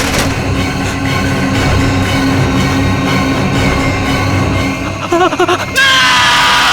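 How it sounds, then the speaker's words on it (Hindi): A man screams in fear in a loud, drawn-out yell in a scene from the Indian crime drama CID, ending in a few sharp bursts before a brief high-pitched sound. "रोहित जी की चीखें सुनकर हम सब बहुत डर गए थे सर"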